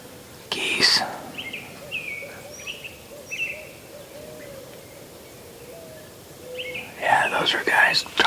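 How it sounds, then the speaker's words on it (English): Honking goose calls, made by hunters trying to locate birds, sound in the distance, scattered over several seconds, with soft nearby whispering at the start and end. "I heard goose calls over here."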